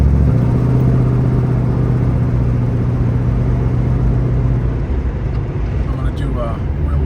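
A 1971 Chevrolet Camaro on a test drive gives a steady, loud low engine rumble that holds throughout, easing slightly near the end as the car takes a sharp turn.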